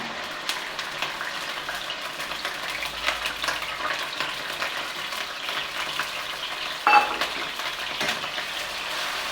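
Ginger paste, raw coriander, cumin and chilli spice pastes sizzle and hiss in hot oil in a pan for rohu fish with cauliflower, with steady frying crackle, a few scraping stirs and a brief louder burst midway.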